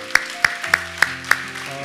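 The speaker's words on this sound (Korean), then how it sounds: "우리 다시 한번 하나님 앞에 감사의 박수 올려드리도록 하겠습니다" A church congregation at a Sunday worship service claps in steady unison, about five sharp, evenly spaced claps over sustained keyboard chords.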